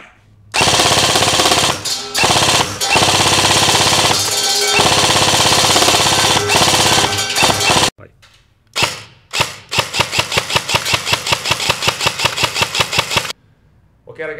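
An airsoft G&G CM16 LMG running on an 11.1 battery fires loud, close full-auto bursts, first a long sustained burst, then a string of rapid short bursts with rhythmic mechanical clatter, separated by brief pauses.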